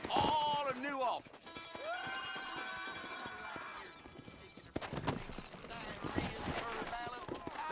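Horse hooves clip-clopping in the Red Dead Redemption video game, with a Western town and horse dealer setting; soft rhythmic hoofbeats run under character dialogue and background game sounds.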